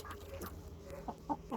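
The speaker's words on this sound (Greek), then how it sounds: "οι άλλες κότες τρώνε" Hens cluck softly and intermittently while feeding, close by, in a few short separate bursts over quiet background, with no talking.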